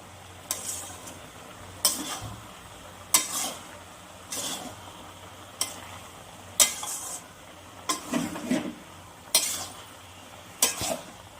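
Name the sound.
vegetables sautéed with spices in a pan, stirring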